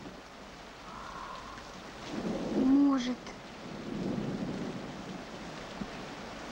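Rain with a rumble of thunder swelling and fading in the middle, quiet and steady, with a brief spoken word from a person.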